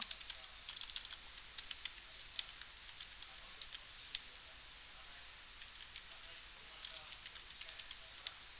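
Light, fast tapping on a computer keyboard as a search phrase is typed, a soft irregular run of clicks with occasional louder keystrokes over a faint background hiss.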